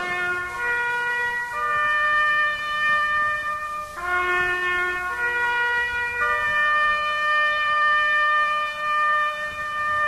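A lone bugle sounds Taps, with long held mournful notes rising and falling in a slow rhythm over a faint hiss, moderately loud and heard without talk.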